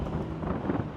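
Wind buffets the microphone on a city street in Makati, Metro Manila, a brief, fairly faint low rumble of gusty noise with nothing else standing out.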